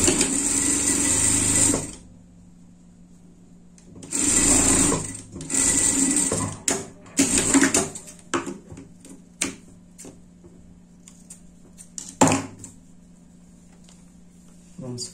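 Sewing machine running a safety seam on an orange pumpkin Halloween shirt, in several loud sustained bursts of stitching separated by pauses, with shorter clicks and handling noises in between.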